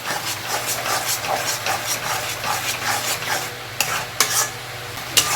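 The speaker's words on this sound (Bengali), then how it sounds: "1 চা চামচ কাশ্মীরি লঙ্কার গুঁড়ো, খুব ভালো করে মিশিয়ে নেব।" Kashmiri chili powder is mixed into a sizzling prawn masala in a pan with steady, close stirring strokes over a hissing fry, ending in a few sharper scraping knocks.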